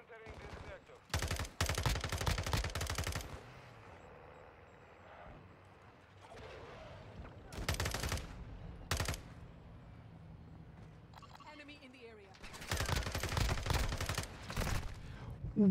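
Submachine gun fire in Modern Warfare 2 comes in several loud, rapid bursts separated by quieter gaps, with faint game background sound between the volleys.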